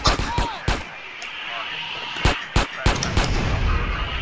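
A tanker truck explodes in the video game GTA San Andreas, sharp booming blasts and gunfire-like bursts repeating in uneven clusters over a steady game background.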